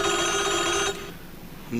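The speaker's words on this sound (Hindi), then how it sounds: "ये फिर किसी सरकारी अफसर का फोन होगा" A telephone rings loudly with a steady electronic bell tone for about a second, then stops, leaving quiet room noise before another brief tone begins at the end.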